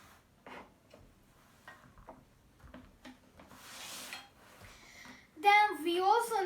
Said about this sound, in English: Then we need to dice onion and tomato into small pieces.